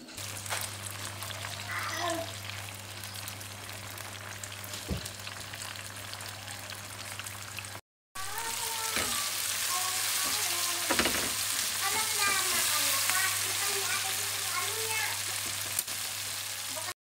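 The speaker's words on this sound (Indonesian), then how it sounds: "Ini langsung aja kita tumis sampai benar-benar layu" Sambal with a little shrimp paste sautéing in plenty of oil in a wood-fired village kitchen, giving a loud, continuous sizzle and crackle with occasional stirring scrapes and a brief break midway.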